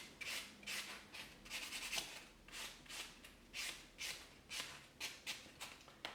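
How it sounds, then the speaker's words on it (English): Rough 100 grit block buffing over an acrylic-coated nail before gel polish, a quick run of soft rasping strokes in a steady back-and-forth rhythm, close and faint with no talk. "I'm just going to block it over with quite a rough block."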